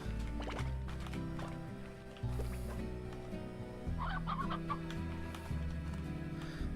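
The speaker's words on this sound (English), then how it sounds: "I'm gonna put the chicken in it because I like chickens" Chickens clucking in the video game Slime Rancher, repeated clucks and calls over a steady looping game music background.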